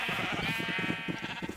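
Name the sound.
sheep bleating in a video game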